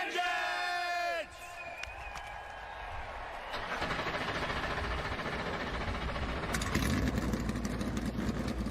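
Race car engines fire up and idle at the start in a racing video game: a whistle-like chirp, then a dense, loud field of rumbling engines over crowd noise, swelling slightly toward the end.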